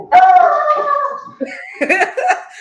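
A dog close by gives a drawn-out howling bark, then a few shorter yips and whines. The calls are loud and carry some laughter, with no speech over them.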